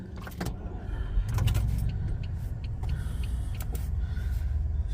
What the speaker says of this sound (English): So now you have to start it with the key to actually take off.